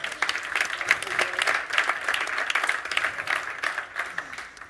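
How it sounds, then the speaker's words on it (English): Audience applause at the Cleantech for Europe Summit 2025, a moderately distant, steady patter of many hands clapping throughout. "let's give ourselves another round of applause"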